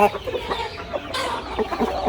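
A large rooster of over five kilograms clucks in short, repeated bursts against a busy background in General Santos City, with a brief rise in noise midway through.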